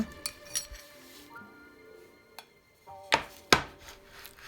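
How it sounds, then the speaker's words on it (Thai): Herbs being pounded coarsely in a mortar for turmeric fried fish, a few sharp separate knocks and clinks, two strong close strikes near the end, over a quiet kitchen background. "เราจะตำเขาไม่ถึงกับละเอียดมากนะคะ พอหยาบๆ ค่ะ"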